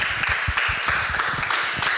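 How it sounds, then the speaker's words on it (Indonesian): An audience at a painting workshop gives steady, sustained applause, with dense overlapping claps close by and no talk over them. "tepuk tangan sekali lagi buat Pak Tommy."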